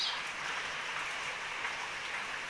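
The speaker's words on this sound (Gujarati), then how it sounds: "સાંજનો જો હમણાં ચાલુ છે વરસાદ" Steady rain falls with a soft, even hiss, fairly faint, with no other sounds.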